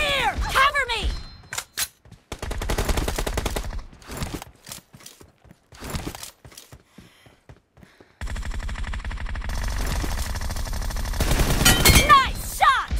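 Rapid bursts of automatic gunfire from the PUBG Mobile battle-royale shooter, loud and close, in dense volleys with brief pauses, plus a stretch of sustained firing near the end, with game voice callouts in the mix.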